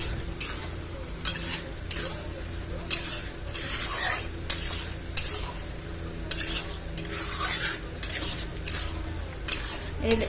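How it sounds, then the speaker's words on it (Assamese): Pre-fried chicken being stir-fried in a sizzling pan, with a spatula scraping and stirring in a repeated rhythm over a steady background sizzle, close and moderately loud. "এতিয়া মই চিকেনটো দিম ঢালি, ভাজি থোৱা চিকেনটো। এতিয়া মই এইখিনি ভালদৰে ভাজি ল'ম"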